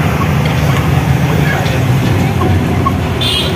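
A travel bus engine drones steadily from inside the cabin while riding, a constant low rumble with road noise and faint passenger voices in the background.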